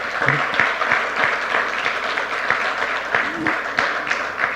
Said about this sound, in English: Another round of applause for Thomas.